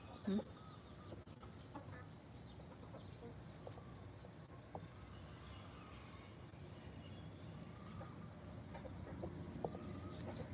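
Chickens and a rooster on a farm in Thailand, scattered faint clucks and short calls over a steady noisy background, with someone talking intermittently.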